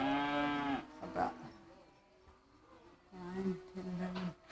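Cattle moo nearby: one long, loud low moo, then a pause filled with faint background sound, then two shorter moos.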